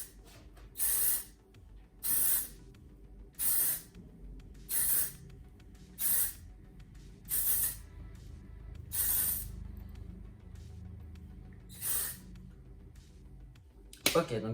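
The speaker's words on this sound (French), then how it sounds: "c'est un spray qui mouille" Andrew Fitzsimons Primark hair spray is sprayed in a series of short, sharp hissing bursts, about nine in all, roughly one every second or so, close and clear with quiet handling noise in between.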